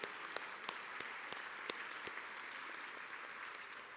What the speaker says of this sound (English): So please give another round of applause to our president